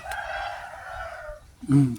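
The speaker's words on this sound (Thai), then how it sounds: "ไก่ที่ว่ามันกำลังตีกันนั่นแหละเนาะ" Roosters fighting, with a brief crowing-like call followed by a short loud squawk or cluck near the end, fairly close and without talking.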